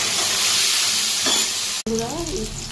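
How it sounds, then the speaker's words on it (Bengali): Potatoes frying in hot oil in a pan, a close steady sizzle for most of the stretch that cuts off abruptly, followed by a brief voice. "এবার আলুগুলো একটু লাল লাল করে ভেজে নেবো"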